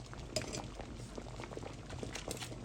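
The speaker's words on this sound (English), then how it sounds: "I add a little bit more water" Water pours into a big pot of simmering Jamaican country-style pumpkin soup, giving a faint, continuous bubbling and trickling with no talk.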